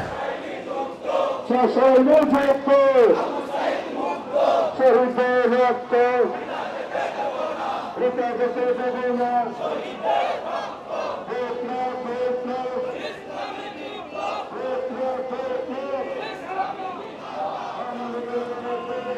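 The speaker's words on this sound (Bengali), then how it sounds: "বড় একটি মিছিল দর্শক" A large Jamaat-e-Islami rally procession for Victory Day in Dhaka, many voices chanting slogans together in a steady call-and-response rhythm, loud and close, with crowd noise continuing beneath throughout.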